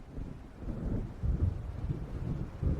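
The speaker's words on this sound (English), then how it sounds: "It seems there's a storm coming." Low, rolling thunder from an approaching storm in the video game Alan Wake, a continuous deep rumble with surging swells, fairly faint and distant, with wind and no speech.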